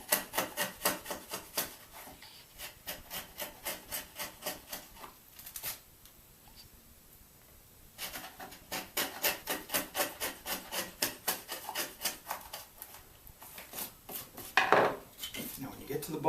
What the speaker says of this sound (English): When you get close to the bottom, turn the chisel over so the flat side is down